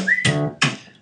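A melodic whistled line in a pop song recording, set over a Rhodes electric piano, drums and hand claps. Two short phrases sound bright and up close.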